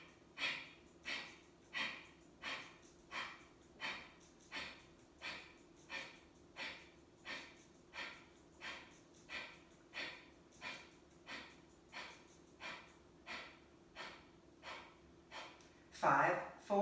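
Rhythmic deep nasal breathing during a power yoga flow, a long steady series of evenly spaced breaths, close and soft, ending with a louder, fuller breath.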